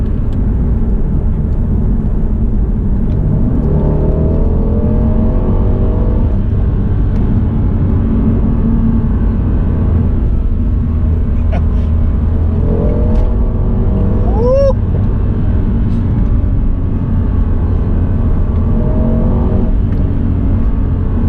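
A Mercedes C63 AMG fitted with Pipercross air filters drives in Sport Plus mode, its engine giving a loud, continuous low drone heard from inside the car, with occasional brief rising whines.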